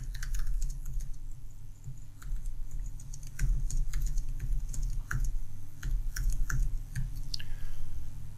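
Rapid, uneven clicking of keys on a computer keyboard while C++ code is typed in VS Code, close and steady, with bursts of louder keystrokes over a low hum and no talking.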